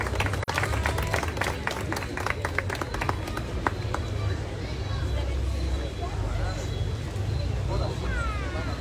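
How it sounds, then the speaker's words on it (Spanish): Audience applause at a tourism association awards evening in Comitán, steady crowd clapping mixed with hubbub and background noise that carries on throughout, with voices in the mix. "vamos a darle un fuerte aplauso."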